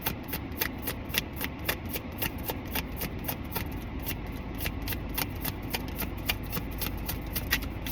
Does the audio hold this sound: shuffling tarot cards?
yes